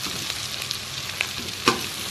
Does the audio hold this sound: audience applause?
no